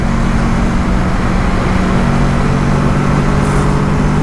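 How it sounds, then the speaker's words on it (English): Motorcycle cruising at about 100–145 km/h on the Noida–Greater Noida Expressway, rider's helmet visor down, giving a loud, steady roar of wind and engine drone with a constant low hum throughout. "I am right now riding at about 100-105 kmph on the Noida, Greater Noida Expressway with my visor down on the helmet"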